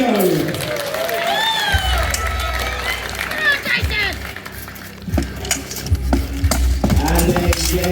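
A crowd cheers and yells at a sword and shield duel tournament at Kryal Castle, a loud sustained roar of voices with an announcer talking over it and some thumps and clatter.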